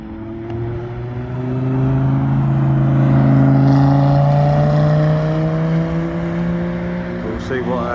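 American muscle car nicknamed Bumblebee passing on the Three Sisters race track, engine tone rising as it approaches, peaking loud around mid-clip, then falling away with a dropping pitch as it recedes.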